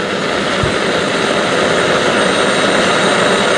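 A loud, steady roaring hiss of a Soto ST-310 camping gas burner at full flame, continuous and close, with no voices.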